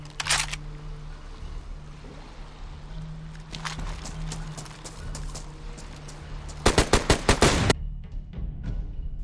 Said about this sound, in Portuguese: foi um tiro bem na cara dele